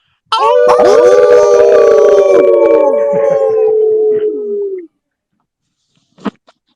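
A group of people on an online voice chat imitate an owl, their overlapping voices forming one loud, long howling hoot that slides gradually downward for about four seconds before cutting off, followed by a faint click.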